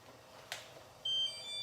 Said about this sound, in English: Okay, the 5 minutes are up. My timer is going off.